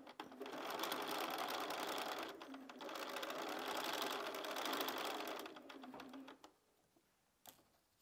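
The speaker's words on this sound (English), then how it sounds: "So I'm going to take those to the machine and sew all of those to make my four patch units." A sewing machine stitches pieced quilt fabric into four-patch units, running in two long steady whirring bursts with a brief pause between, then stopping, followed by a quiet click.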